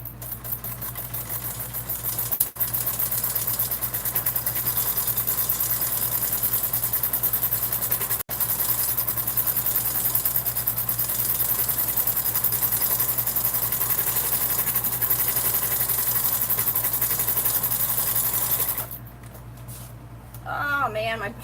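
A sewing machine stitches a long seam on a bag, a steady rapid whirring hum that runs for most of the clip with a couple of brief dropouts, then stops near the end as a voice talks.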